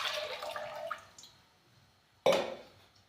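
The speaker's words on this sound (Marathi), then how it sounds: "तांब्याभर पाणी टाकत" Water is poured from a tumbler into a pressure cooker on a gas stove, a splashing gush that fades, then a second short sharp splash, no talking.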